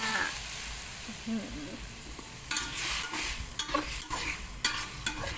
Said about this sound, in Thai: หนวดหมึกนะคะใส่ลงไปเลยค่ะ